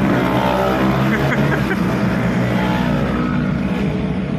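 Dense street traffic crowded with scooters in Indonesia, heard from inside a moving car: a steady, loud wash of engine rumble and road noise throughout, with no distinct individual pass-bys standing out.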